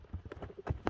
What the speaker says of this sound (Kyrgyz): Тайгазанга токтогон ат экен, команданын аты экен, Кыргыз жылкысы.